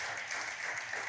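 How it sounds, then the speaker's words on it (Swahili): A church congregation claps together in praise, a brief dense wash of many hands applauding at moderate distance. "Appreciate the Lord with a great hand clap."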